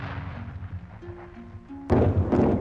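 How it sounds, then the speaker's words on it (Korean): A shrapnel shell bursts with a sudden sharp blast that follows a few faint, steady tones and then rumbles on, loud and close, with no voices. "This represents a shrapnel shell"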